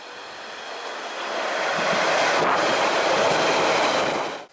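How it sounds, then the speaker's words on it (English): A westbound London Underground train running from Snaresbrook to Leytonstone, a steady loud rumble of wheels and carriage noise that swells and holds throughout, then cuts off at the end; no one speaks. "so I boarded the westbound train at Snaresbrook and rode one stop down"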